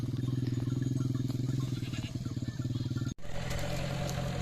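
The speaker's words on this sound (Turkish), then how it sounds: "yayan gidemeyiz diyerek motor çağırdık değerli dostlar." A motorcycle engine runs steadily up close with a throbbing, pulsing drone, briefly cutting out for an instant before resuming at a similar level.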